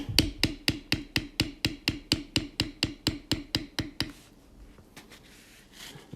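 A hammer strikes a steep checkered beveling tool on leather with about sixteen evenly spaced, crisp taps, then a few scattered softer knocks after it stops.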